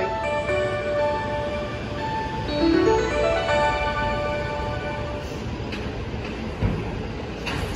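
An E531 series Joban Line train bound for Katsuta pulls out of platform 3 at Tsuchiura station. A loud, close electric motor whine rises in pitch over steady rumbling, with a sharp clank near the end.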